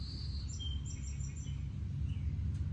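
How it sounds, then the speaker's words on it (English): Birds chirping and calling in the Blue Ridge Mountains, a scatter of faint high tweets over a steady low rumble of wind or water throughout. "The birds sing,"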